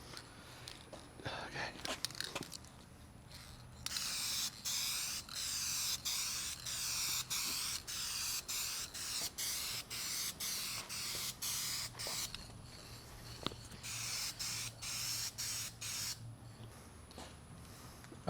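Rattle-can spray paint hisses in repeated bursts of a few seconds each, separated by short pauses, while a primed panel gets a heavier coat; the bursts are steady and fairly close, with faint handling noise between them.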